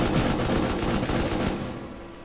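Rapid automatic gunfire in the video game Rust, a fast, even burst of a dozen or so loud shots that stops abruptly and leaves a fading tail.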